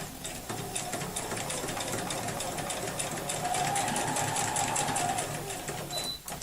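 Sewing machine chain piecing small bias-cut quilt pieces without cutting the thread, running in one steady continuous whir close up, with light mechanical ticking throughout and a faint voice underneath.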